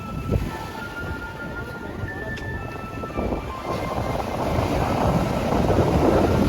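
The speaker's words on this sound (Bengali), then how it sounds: "দেখো কি সুন্দর হাওয়া আসছে আর ঢেউটা দেখো" Wind and sea waves at Old Digha beach at night, a broad steady roar of surf and gusting wind buffeting the microphone, swelling louder toward the end, with no clear talk.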